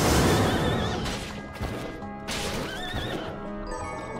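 Water horse enemy in the Bloodstained video game gives two loud, wavering whinnies over a dense, busy game soundscape, with clattering hoof-like thuds and crashes scattered through.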